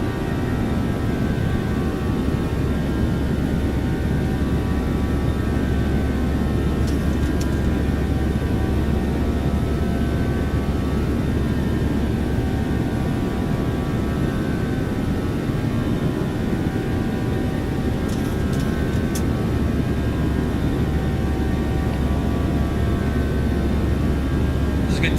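A simulated Boeing 777 jet roars through its takeoff run in the X-Plane flight simulator, a loud, continuous engine rumble that holds steady for the whole stretch.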